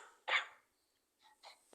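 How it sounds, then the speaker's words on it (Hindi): A single sharp cough, then a pause and two softer, breathy follow-up sounds, close and fairly quiet. "थोड़ा सा खांसी बढ़ रहा है,"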